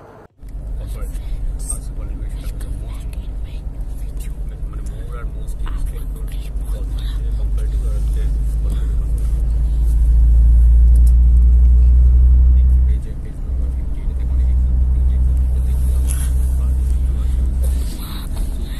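Car cruising on India's largest expressway, with a steady low engine and road rumble inside the cabin that swells louder midway, while someone talks over it throughout.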